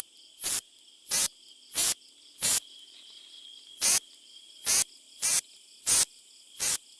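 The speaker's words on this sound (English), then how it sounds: "Insects in the family Katidids are commonly called katidids, especially in North America." A katydid, or bush cricket, chirps loudly and close by in a series of nine sharp, buzzy bursts at a fairly regular rhythm, with a brief pause midway and a faint steady hum between the calls.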